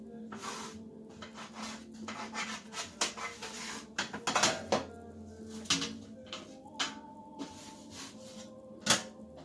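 Knife cutting double chocolate pistachio biscotti on a parchment-lined pan, heard as a series of crisp cracks and crunchy scrapes with light knocks against the pan, close and uneven in rhythm.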